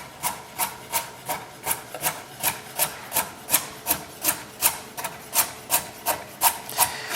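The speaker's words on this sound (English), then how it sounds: "I'm just going to simply cut the carrot for now." A knife slices a carrot thinly on a cutting board, about twenty crisp, evenly spaced chops in a steady rhythm, close and clear with no talking.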